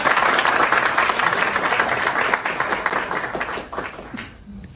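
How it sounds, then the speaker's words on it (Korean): Loud, sustained applause from a large crowd, dense clapping that holds steady and then gradually thins out toward the end. "큰 박수로 맞이해주시기 바랍니다"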